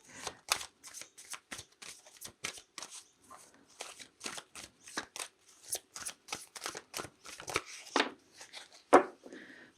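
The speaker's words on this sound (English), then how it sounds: "So let's pull some fairy cards and we'll get stuck into the tarot after that." Fairy oracle cards being shuffled by hand for a tarot reading, a steady run of quick, crisp riffling and slapping bursts close to the mic, fairly quiet, with no talking over them.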